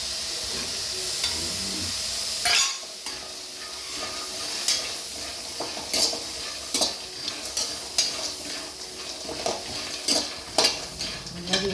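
Chickpeas are stirred and roasted in a pan, with a continuous sizzle broken by repeated scraping and rattling strokes of a utensil against the pan, loud and close.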